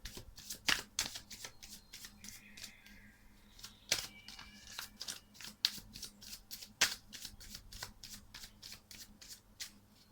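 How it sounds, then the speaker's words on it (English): Tarot cards being shuffled by hand, a steady run of crisp riffling snaps and flicks, close and fairly loud, with no talking. "I like, shuffling and letting you guys actually see"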